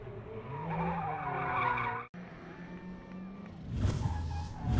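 Drift car at a 2016 French Drift Championship round spins donuts, its tires skidding and squealing over a loud revving engine, the roar swelling toward the end.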